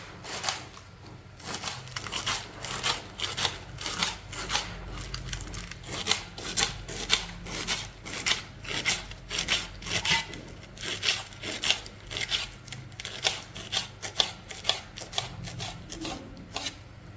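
A knife cuts through young leafy greens (keerai) in a village kitchen, giving a long run of quick, rhythmic chopping and slicing strokes at close range, steady and fairly soft, with no talk.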